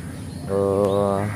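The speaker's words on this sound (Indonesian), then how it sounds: "Burung gagak." A crow gives one drawn-out, harsh caw about a second long, close and clear, outdoors in a residential housing area in the early morning.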